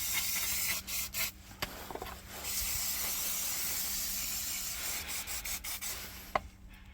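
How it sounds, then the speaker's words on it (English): Brake cleaner sprays onto the differential casing of a Land Rover Discovery Sport in a workshop. Short hissing bursts lead into one long, steady spray, then a few more quick puffs. "clean the diff casing with brake cleaner"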